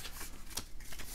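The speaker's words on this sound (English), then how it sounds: "One person will act as the auctioneer and shuffle the title cards of all the horses" A short burst of title cards for horses being shuffled by an auctioneer at a horse racing auction game, heard as a dense, close riffling flutter with no talk over it.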